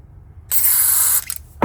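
Strong hissing blast of spray flushing cleaner inside an Electro-Harmonix Small Stone V1 phaser pedal, loud and close for about a second, followed by a brief short spurt.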